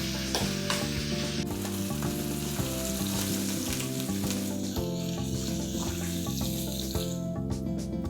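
A salmon fillet fries in a hot pan, giving a steady loud sizzle that runs unbroken, with faint clinks of cooking and music quietly underneath.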